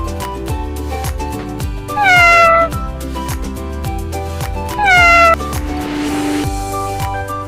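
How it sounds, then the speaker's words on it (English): A cat meowing in a children's alphabet song, two rising-and-falling meows over a steady, loud musical backing with a rhythmic beat. "C for cat."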